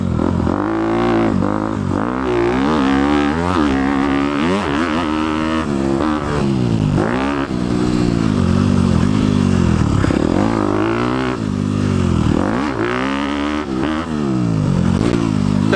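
A 2018 Honda CRF250 big-bore dirt bike revs hard in repeated loud throttle blips, its engine note climbing and falling close by, with no talking.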